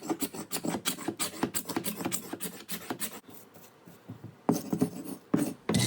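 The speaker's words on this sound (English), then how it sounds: "we're going to scrape all that old finish off" A hand scraper drags repeatedly across an 80-year-old wood floor, stripping off the old finish in quick rhythmic rasping strokes, close and steady, with a short pause before the scraping resumes.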